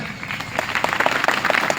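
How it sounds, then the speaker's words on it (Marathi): An audience claps loudly at a live talk, a dense, steady patter of many hands that grows slightly stronger toward the end, heard close and without speech. "हा, जोरदार टाळ्या होत्या."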